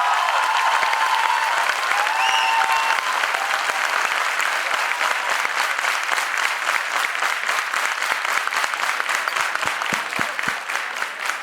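An audience at a school debate competition applauds, a dense steady wash of clapping from many hands that goes on for the whole stretch, with a voice briefly heard early on under it.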